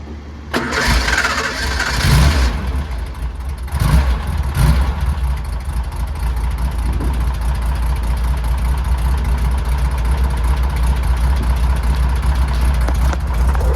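A 1966 Porsche 911 flat-six engine cranks and fires up with a couple of revs, then settles into a steady, rumbling idle.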